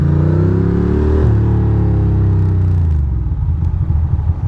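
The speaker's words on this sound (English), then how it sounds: "Loud ass motorcycle." A loud motorcycle revs and roars past on a city street, its engine pitch sweeping down as it goes by, with steady traffic rumble underneath.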